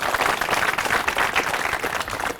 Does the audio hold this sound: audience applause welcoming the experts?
yes